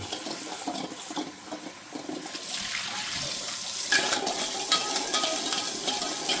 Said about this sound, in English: Start chilling them with cold water.